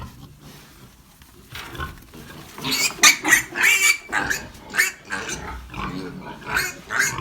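A piglet being handled for sale squeals in loud, repeated shrill bursts at close range, rising after a quieter start and pulsing steadily.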